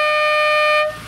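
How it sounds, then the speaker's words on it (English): An Aston Martin Lagonda's alternate 'C horn' sounds one steady, loud, multi-tone blast that holds for under a second, then cuts off into quiet cabin ambience. "But if you press C horn, it changes the note of the horn."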